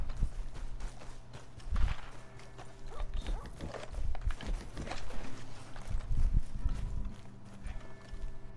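Horse hooves clip-clop in Red Dead Redemption 2 on PlayStation 4, a steady run of close, clear hoof strikes over a low background hum that lasts the whole stretch.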